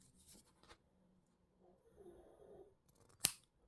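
Pliers snip through a jewellery chain link for a bracelet, giving one sharp, close, isolated click after quiet handling noises.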